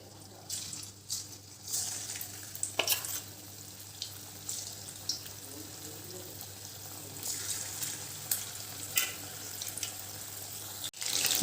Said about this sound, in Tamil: சிக்கனை நல்லா ஃப்ரை பண்ணி எடுத்துடலாம்.